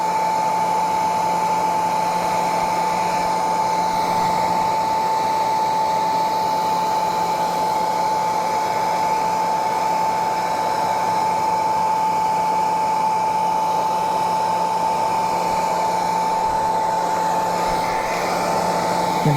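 A hot heat gun blows steadily while melting wax into canvas saddle bags, a constant close airy roar with a steady whine running unbroken throughout.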